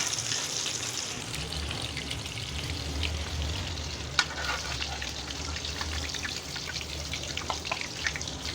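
Peshawari chapli kebabs fry in a pan of hot oil, a soft, steady sizzle and crackle with scattered pops and one sharper tick partway through, heard close and fairly quiet.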